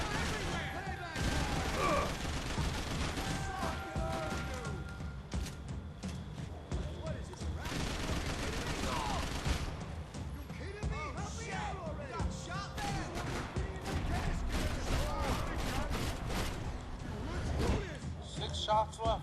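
Gunfire in the video game Max Payne 3, a dense run of sharp pistol and automatic shots with crashes and impacts, loud and rapid across the whole span, with someone talking over it at times.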